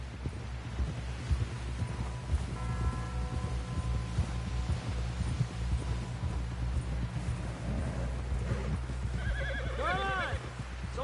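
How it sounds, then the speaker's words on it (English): In Red Dead Redemption 2, a horse clip-clops steadily with hoof beats under ambient game sound and music, then gives a loud whinny near the end. "Someone help John down off this horse."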